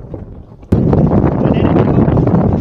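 Strong wind sweeps through a valley on Phu Quy island, a heavy blustery rush buffeting the microphone that begins suddenly and keeps up loudly, with a voice heard faintly early on.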